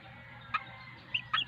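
Hens from a flock of seven on a roof deck garden cluck in three brief, separate bursts, fairly close, with a constant faint hum between the calls.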